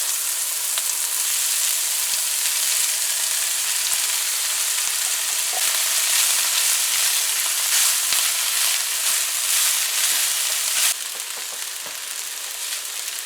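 Rice tipped into a hot pan for chicken fried rice, with a loud steady frying sizzle that continues throughout and occasional faint stirring clicks, then drops slightly in intensity near the end.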